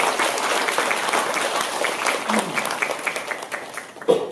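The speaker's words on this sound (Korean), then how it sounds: "우리 승리하신 참부모님께 큰 감사와 영광의 박수를 올려드리겠습니다" A church congregation claps at a Sunday service, a steady dense burst of applause that thins and tapers toward the end, a faint voice briefly rising at the close.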